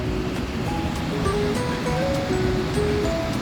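A river rushes out from between the mountains at Vasudhara Falls, a loud, continuous roar of churning water with faint whistling tones drifting over it.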